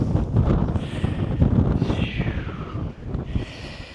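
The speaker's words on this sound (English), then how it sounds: "It doesn't help that the wind is blowing so bad" Strong gusting wind buffets the microphone at a sheer cliff edge above Swan Falls in Idaho, a loud continuous roar that swells and eases throughout.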